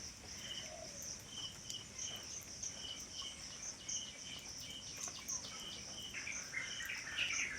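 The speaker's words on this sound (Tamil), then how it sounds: "இந்த குருவி சவுண்டுங்க எப்படி இருக்குது கேளுங்க." Small birds, sparrows, chirp in high, scattered bursts over a steady bed of insect buzzing and light background hiss after morning drizzle, with no voices.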